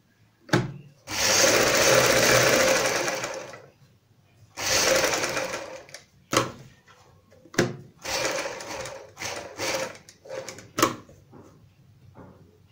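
A sewing machine stitches around a kurti back neckline reinforced with buckram, running in several bursts: two long runs, then a string of short stops and starts with small clicks between them.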